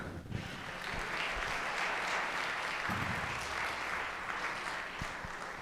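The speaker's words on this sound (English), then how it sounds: "Let's give another round of applause to our tech crew." A school band concert audience gives sustained applause to the tech crew, a steady wash of clapping from a sizable crowd, slightly distant and even throughout.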